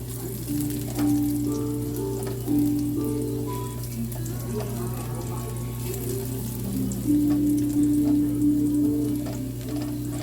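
Bone-in pork ribs fry in a pan for kaldereta with a steady, close sizzle that goes on throughout, with faint clinks and stirring noises over it.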